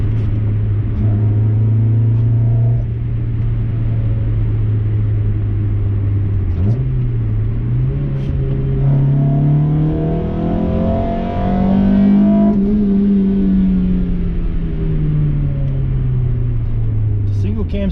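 The engine of an EK Honda Civic hums and revs while driving, a loud steady drone rising and falling in pitch as it accelerates, with a voice talking over the engine.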